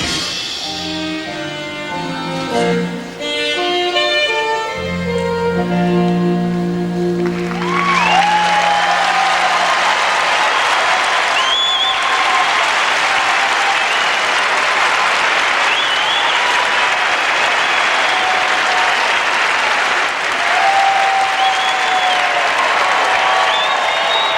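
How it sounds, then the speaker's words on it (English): Figure skating audience at the 1994 Lillehammer Winter Olympics bursts into loud applause and cheering for an ice dancing couple, following the end of a musical passage, with whoops rising above the sustained ovation. "I think they're going to have a terrific crowd reaction here in about"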